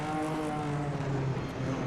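An Alfa Romeo 158 "Alfetta" Formula 1 car in a racing video game drones steadily as it brakes for a corner, its engine tone holding loud and even, then dipping slightly in pitch.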